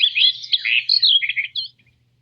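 A bird tweets alone, a run of quick high chirps and warbles lasting under two seconds and then silence, clear and close with no background noise.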